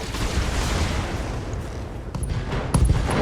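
Mech weapons fire in the BattleTech video game, a dense, loud roar of overlapping blasts and impacts rumbling continuously, with a few sharper hits toward the end.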